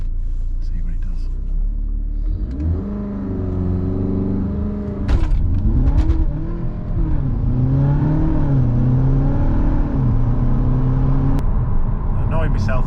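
A tuned VW Passat 2.0 BiTDI (CUAA engine, about 335 bhp) accelerates hard from 0 to 60 mph. Its loud engine drone climbs steadily in pitch, with brief dips at gear changes, heard from inside the car.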